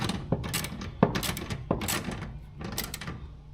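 Mechanical ratcheting and metal clicks from a wrench tightening a bolt on a garage door's horizontal track, several short bursts close by with brief knocks between them.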